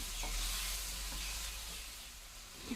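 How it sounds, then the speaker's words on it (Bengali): Food sizzles and hisses steadily in a hot pan while something is stirred, with occasional scraping. "চিকেনের সঙ্গে মশলা ভালো করে মিশিয়ে নিচ্ছি, যেন মশলা প্রতিটা পিসে লেগে যায়।"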